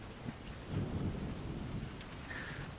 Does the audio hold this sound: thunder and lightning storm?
yes